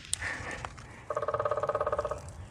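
A woodpecker drums on a tree in a nature reserve in Pennsylvania: one rapid, evenly spaced burst of about twenty taps lasting roughly a second, standing out clearly over quiet woodland ambience.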